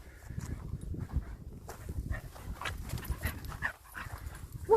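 An old dog pants steadily and rapidly close by on a walk, with occasional shuffles and soft movement noises mixed into the rhythmic breathing.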